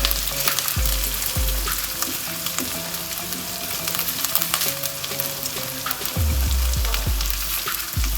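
A small piece of cinnamon sizzles in hot oil alongside garlic and ginger in a pan, a constant crackling fry with occasional low knocks of the spoon, close and fairly loud, no talking.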